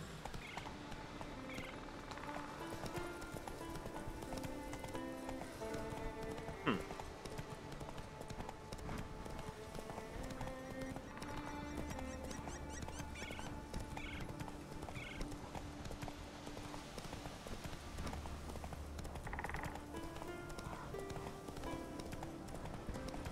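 Roach, a horse in the video game The Witcher 3, gallops on steady clip-clopping hooves under a continuous music and ambient game bed, with a brief snort or whinny partway through.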